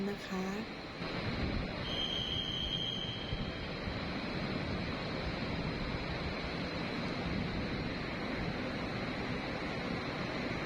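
An SRT Red Line electric train rumbles steadily into Bang Sue station in Bangkok, a continuous broad roar with a brief high whine near the start, loud and close.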